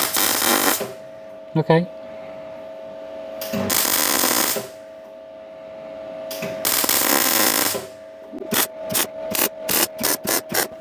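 Welding on a Daihatsu Charade crackles in loud bursts of hissing, sizzling arc noise, first in longer runs and then as a rapid string of short stitch welds, with a brief spoken word between bursts.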